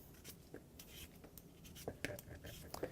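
Soft, scraping strokes of a peeler run along a sweet potato up close, a quick irregular series of faint rasps.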